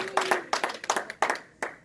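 A church congregation claps in an uneven rhythm, sharp bursts of hand claps in quick clusters with brief gaps, a voice briefly heard at the start.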